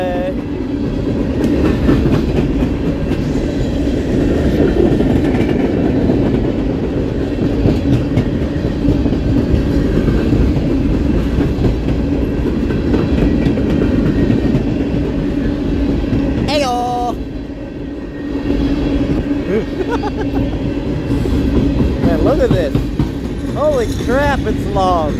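A long BNSF coal train rolls past in Battle Creek, Michigan, a continuous loud rumble and rhythmic clatter of wagons on the rails, with brief squeals of wheels toward the end.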